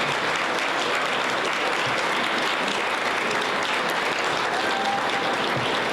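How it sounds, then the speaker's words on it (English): An audience at a home design awards event claps in a dense, sustained round of applause that fills the room evenly from start to finish, with no pauses. "Let's give you all a round of applause."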